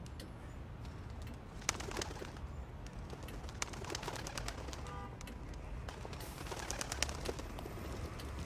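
Pigeons cooing in a busy outdoor setting, soft repeated coos mixed with other bird calls and sharp clatters over a steady wash of background noise.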